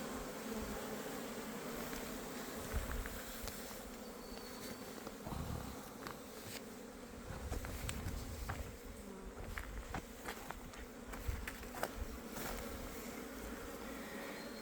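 Honey bees buzz steadily around a hive, a dense droning hum with individual bees passing close now and then.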